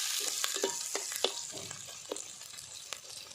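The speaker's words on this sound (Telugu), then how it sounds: "బాగా వేగినాయి కదా, చాలా బాగుంటుంది. ఈ అల్లం పేస్ట్ కూడా దీంట్లో వేగిందంటే చాలా బాగుంటుందండి." Ginger garlic paste fries in a pan with a soft, continuous sizzle, broken by a scatter of light spatula scrapes and crackles. No one speaks over it.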